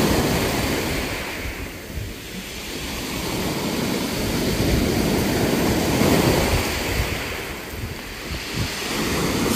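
Sea waves roll and break on the shore at Sevastopol in Crimea, a loud, steady surf that swells and ebbs with heavy wind buffeting the microphone and no voices.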